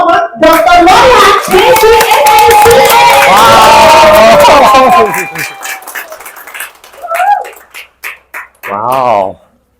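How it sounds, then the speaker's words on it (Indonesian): An audience at a 4Life Transfer Factor product training applauds to welcome a speaker to the stage, with loud sustained clapping and cheering that fades, followed by someone speaking. "berikan tepuk tangan yang meriah"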